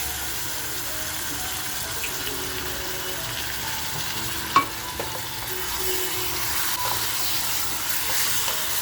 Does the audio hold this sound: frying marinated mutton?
yes